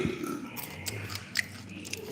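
Someone bites and chews crunchy food that is still warm and freshly fried, making faint, close crunches and crackles at irregular moments over a low room hum.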